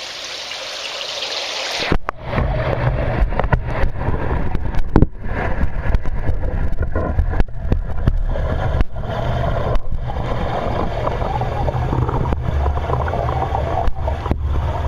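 A camera on a pole is plunged into water, and after about two seconds of quieter air sound a dense, muffled underwater rush and bubbling takes over and continues steadily, with no voices.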